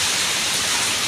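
Heavy monsoon downpour in the Konkan region during a stormy power cut, a dense, steady roar of rain filling the whole clip close by, with no voices.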